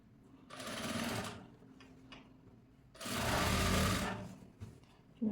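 A sewing machine stitching piping onto a blouse runs in two bursts, about a second each, with short pauses and faint handling clicks between them.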